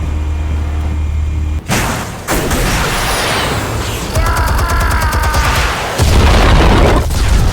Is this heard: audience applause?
no